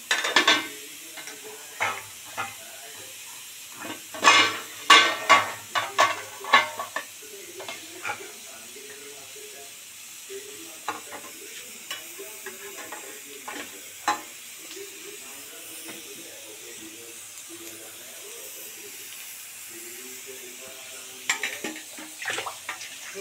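Papaya dalna curry simmering in a pan, a soft steady sizzle with scattered stirring clatter and utensil knocks, clustered near the start and end, with no talk.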